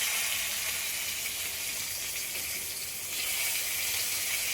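Potatoes frying lightly in oil with turmeric give a steady, even sizzle and hiss that holds at a constant moderate level throughout, with no talk over it.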